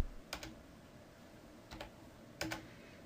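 Computer keyboard keys pressed while entering a command in AutoCAD, three short quiet clusters of clicks spaced about a second apart, close and alone with no talk.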